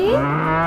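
A single drawn-out cow moo, low and steady with a rising tone at the start, loud and close.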